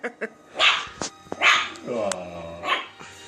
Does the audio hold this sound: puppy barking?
yes